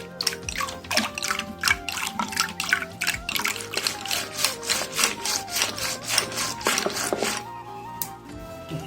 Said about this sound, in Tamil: தயிர் கூட கொஞ்சம் தண்ணி சேர்த்து சிலிப்பிக்கலாம்